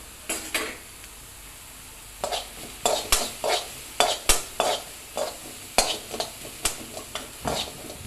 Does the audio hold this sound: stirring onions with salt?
yes